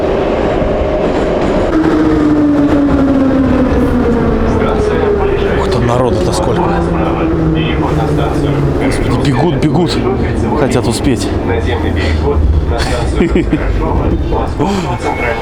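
Metro train carriages on a retired festive train passing steadily with a loud, continuous rumble and rattling clatter, close by, while someone talks over it.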